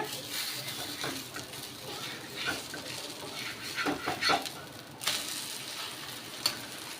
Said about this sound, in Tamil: நல்லெண்ணெயாவது கீயாவது ஆட் பண்ணிக்கோங்க பொரியட்டும்